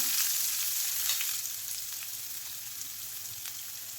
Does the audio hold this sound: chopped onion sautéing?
yes